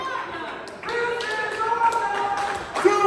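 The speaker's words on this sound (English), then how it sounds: "The crowd is loving it right now" Wrestling event crowd clapping in scattered bursts, moderately close, with a commentator talking over it.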